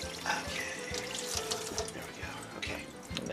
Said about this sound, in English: I'm going to rinse all the excess meat off, because we are going to need to handle other kitchen supplies.